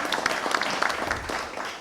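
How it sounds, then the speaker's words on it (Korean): Brief applause from a conference audience at a Korean university leaders' meeting welcoming the National Assembly Speaker, a moderate burst of mixed hand claps with faint background voices. "환영하는 의미에서 큰 박수로 맞이해 주시면 감사하겠습니다"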